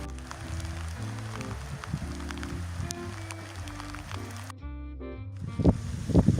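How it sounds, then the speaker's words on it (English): Rain falling outdoors at night at an evening wedding party, a steady patter and splashing on surfaces that continues throughout, mixed with background music, with louder splashy drops near the end. "It is raining."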